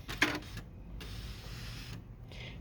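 A Canon Pixma MG6821 printer's carriage whirs mechanically in short motorized runs toward the middle, with a click at the start and pauses between movements, close and fairly quiet.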